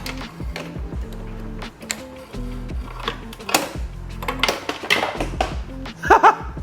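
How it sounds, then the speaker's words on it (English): A metal socket drops and clatters against car parts during headlight removal on a BMW 1-Series, giving a few sharp metallic clinks and rattles near the end of a stretch of quiet tool handling. "Dropped my socket there, so be careful not to do that."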